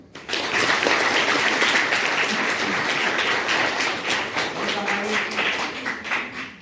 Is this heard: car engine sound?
no